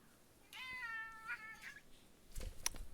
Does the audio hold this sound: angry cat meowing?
yes